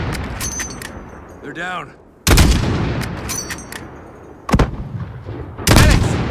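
Call of Duty combat with sharp, loud gunshot bursts cracking out in separate volleys, including a mortar-team firefight, between quieter stretches with radio beeps and a soldier's short spoken line.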